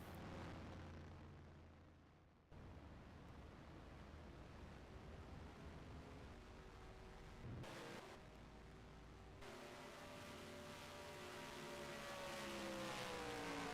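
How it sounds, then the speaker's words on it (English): A stock race car doing a post-race burnout at Daytona in the NASCAR Racing 2003 game, a loud sustained roaring engine with abrupt jumps in pitch and intensity, a brief burst in the middle, then rising revs. "Austin gets to do the customary burnouts."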